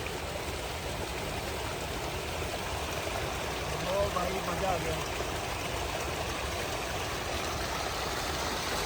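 Spring water trickles and flows from under a rock close by, a continuous watery wash with a faint engine-like hum underneath and brief murmurs of voices.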